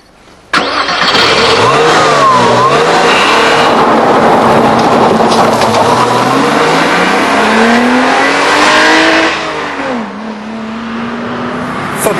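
A Porsche Boxster roadster with a flat-six engine fires up and revs hard, the loud engine note climbing and sweeping through several accelerations close by before easing back near the end.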